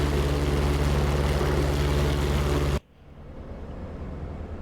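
P-47 Thunderbolt radial propeller engine with turbocharger, a loud steady roar that cuts off abruptly partway through, leaving a quieter rumble that slowly builds again.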